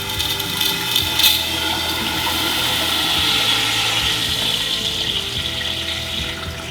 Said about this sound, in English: Now we're filling the tank back up.